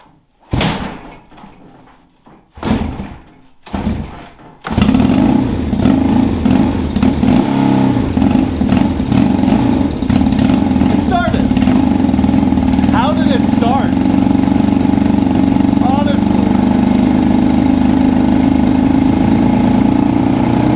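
A 1972 project car engine cranks in a few short bursts, then catches and settles into a loud, steady rough idle close by, with voices heard over it.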